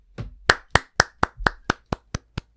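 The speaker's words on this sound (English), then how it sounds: "Can I get a round of applause?" A single person claps about ten crisp, evenly spaced times close to the mic, in a quiet room with no talk, each clap sharp and distinct with a clean gap between.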